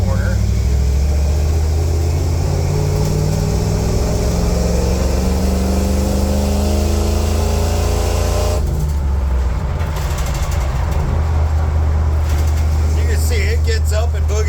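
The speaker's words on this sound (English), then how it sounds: "We're going to give it a third gear pull in this tight corner." A 1986 Ford Bronco with a swapped EFI 460 V8 accelerates hard in third gear through a tight corner, its deep engine note climbing steadily in pitch and then shifting abruptly near the end, loud and close inside the cab.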